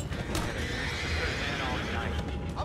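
A horse in the video game Red Dead Redemption 2 lets out a loud, drawn-out neigh with some hoof clatter, while a voice talks over it.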